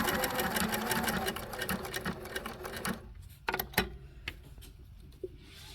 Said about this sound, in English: here's our triple stitch